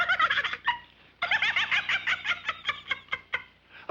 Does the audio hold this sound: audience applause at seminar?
no